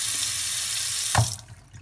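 Water runs from a kitchen sink faucet in a steady stream, close and clear, then cuts off abruptly near the end and leaves a quiet drip and trickle.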